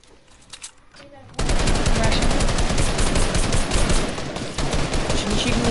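Rapid automatic gunfire in Fortnite erupts after a quieter opening second and continues loud and unbroken to the end as a dense, rattling stream of shots.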